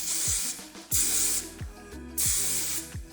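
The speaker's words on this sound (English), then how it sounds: "Spray it with a little bit of hairspray, and this is just a working spray from Kenra" Kenra working hairspray is sprayed onto hair in close bursts: three loud hissing sprays separated by short pauses, with no voices.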